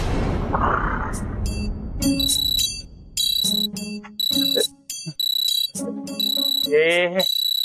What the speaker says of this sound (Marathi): अलार्म कोण लावला सकाळी सकाळी?